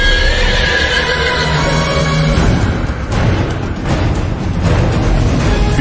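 A stallion neighs loudly and close by, a long shrill whinny that breaks into rough, shuddering bursts, heard alone without talk.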